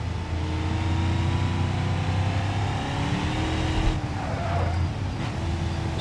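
Car engine in BeamNG racing along at speed, a steady droning hum with shifting tones as it holds gear, continuous and fairly loud throughout with a brief surge near the middle.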